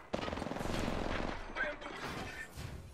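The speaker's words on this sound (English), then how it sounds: "They're shooting at me!" Rapid video game gunfire in a first-person shooter, sustained bursts of shots close and loud for nearly three seconds with a few heavier cracks, no talk over it.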